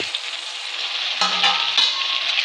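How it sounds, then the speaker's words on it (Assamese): Chicken meat hits hot spiced oil in a pan and sizzles loudly, a steady crackling hiss that flares up sharply partway through as more meat goes in, with no talking. "মাংসখিনি দি অলপ সময় ভালকৈ ভাজি ল'ব লাগিব।"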